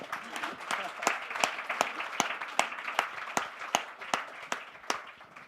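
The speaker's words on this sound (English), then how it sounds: "I think we should give a round of applause for Andrea" An audience at an entrepreneurs panel claps for a guest, a modest, fairly sparse round with distinct individual claps over a soft murmur.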